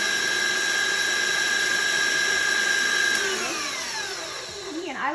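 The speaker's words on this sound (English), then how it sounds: "I like to stop my mixer and kind of scrape the sides" An electric stand mixer whirs at a steady high-pitched drone, then its motor winds down and slows to a stop near the end, loud and close.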